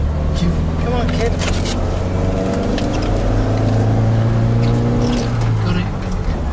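A car's wheels spin as it labours up a steep track in Australia, the engine droning loud and steady throughout with voices talking over it.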